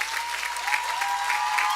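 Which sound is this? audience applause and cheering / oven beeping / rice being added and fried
audience applause and cheering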